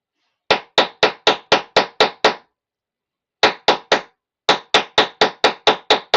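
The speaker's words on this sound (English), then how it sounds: "I'm going to hammer this first" Crisp metallic hammer strikes flatten copper wire for earrings, coming in quick, evenly spaced runs of about eight blows, a pause, then three more and another steady run, close and loud with no talking.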